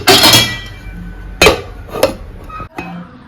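A metal lid clanks onto a pot of biryani: a clattering rattle opens the clip, then sharp metallic clinks and knocks follow at intervals, close and loud, with no talking.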